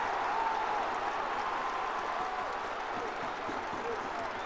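A stadium crowd roars and applauds at a Leinster hurling semi-final replay between Offaly and Galway, a broad sustained wash of cheering with a commentator talking over it.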